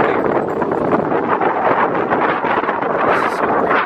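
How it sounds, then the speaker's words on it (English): Strong wind roars steadily across the mic at Eklutna Lake, a loud, constant rushing buffet with no pauses and no voices over it. "It's crazy with how windy it is out here."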